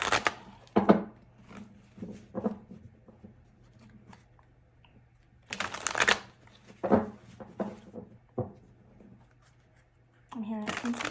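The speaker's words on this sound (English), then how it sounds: "I'm gonna do 3 more shuffles." Tarot cards being shuffled in several quick, crisp riffling bursts separated by pauses, close and fairly quiet, with someone speaking softly between the shuffles.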